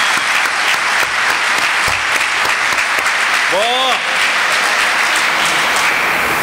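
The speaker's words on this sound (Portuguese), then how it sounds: "gostava de pedir-vos uma salva de palmas para essa portuguesa" Loud, continuous audience applause rings through a talk venue, steady dense clapping with a brief whoop rising in the middle.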